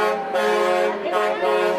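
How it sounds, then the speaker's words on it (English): Trucks near the busy port of Newark sound their horns, a loud sustained honk with two brief swells in under two seconds, close by. "Trucks moving in and out of the busy port of Newark honked their support."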